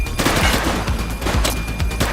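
Rapid bursts of gunfire in The Precinct police game, several sharp shots in quick succession over a dense background of action noise, loud and close.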